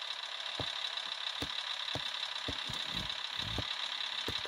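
Vehicle engine chugging in Offroad Outlaws while a winch pulls it onto a trailer, a steady low drone with regular knocking thumps, no talking.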